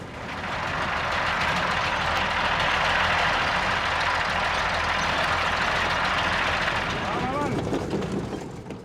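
A heavy smuggling truck runs on a rough road in Mali, its chassis suspected faulty. The engine gives a loud, steady, broadband roar and rumble that continues throughout, then eases slightly near the end.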